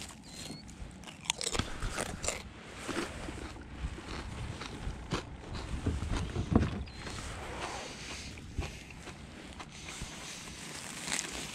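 Someone eats a sandwich and Ruffles potato chips outdoors, producing repeated close, crisp bites and crunchy chewing in an irregular rhythm over a steady quiet background, with no talking.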